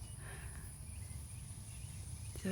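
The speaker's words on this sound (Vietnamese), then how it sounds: "Tiếng dế kêu yeah, yeah, yeah." Crickets chirp on open grassland at sunset, a steady, faint insect trill holding throughout alongside a low rumbling background.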